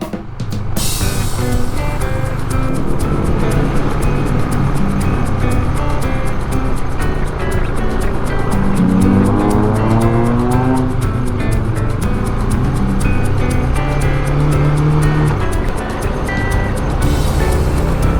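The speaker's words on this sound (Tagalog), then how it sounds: "Traffic dito sa Mahispio." Road traffic in Baguio, heard while riding, is a loud, constant rumble of engines and vehicles close by, with a rising tonal whine partway through and no talking.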